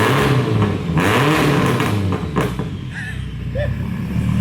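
A car engine revs hard through a newly fitted loud exhaust, with sharp rising and falling bursts that then settle into a rumbling idle, while people talk nearby.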